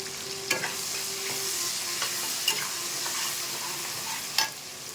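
Onion, tomato and turmeric powder frying in a pan, a steady close sizzle with a few sharp stirring clicks scattered through it.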